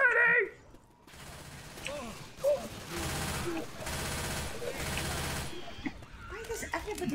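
Gunshots in the zombie shooter Left 4 Dead 2, heard as dense bursts of automatic fire in the middle of the stretch, with a voice talking before and after.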